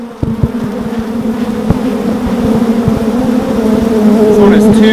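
A dense swarm of bees buzzes loud and close around a beekeeper's glove, a steady droning hum with sharp ticks of insects striking, on a small farm.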